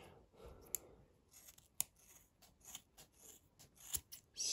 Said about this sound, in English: we are going to cut off the hair that she has left